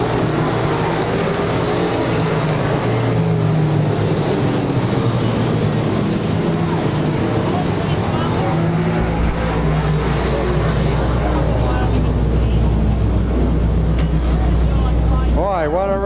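Race cars at Claremont Speedway in New Hampshire during 1996 weekly racing, engines roaring down the backstretch in a loud continuous drone, with a public-address announcer talking over the noise.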